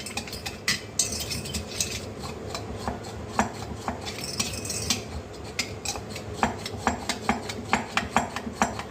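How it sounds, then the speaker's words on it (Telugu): Sugar is stirred into a mixture with a spoon, giving a continuous run of scraping and clinking strokes against the vessel, close and fairly loud, with no talk. "3 to 4 tablespoons ఆఫ్ షుగర్ వేసి బాగా మిక్స్ చేయాలి"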